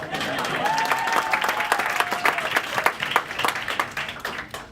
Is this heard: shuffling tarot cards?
no